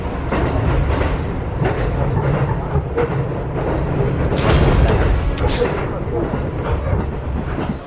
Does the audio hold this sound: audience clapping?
no